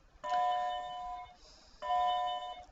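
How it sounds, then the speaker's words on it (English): Two clear electronic doorbell chimes ring one after the other, each a sustained bright tone lasting about a second, close and alone with no talk. "Sorry for the bells."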